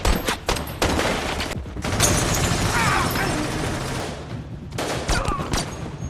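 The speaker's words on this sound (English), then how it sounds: "triggering a fierce firefight" Gunfire rages in a fierce film firefight inside a building, with dense, loud bursts of automatic shots and scattered single cracks that blend into a sustained roar.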